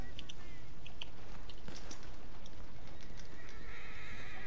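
A horse in a video game whinnies loudly and clearly, with clip-clop hoofbeats and game ambience around it, ending in a brighter, sustained high tone.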